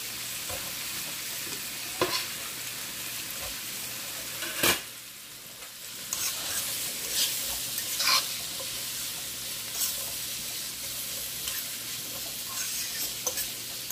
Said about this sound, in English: I'm gonna my onion saute. In the butter.